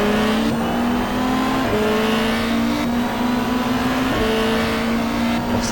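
A race car in the GTR2 video game, a 1995 Australian Super Touring car at Symmons Plains, holds a loud steady engine note through stepped shifts as it drops gears for a hairpin, with faint tyre noise.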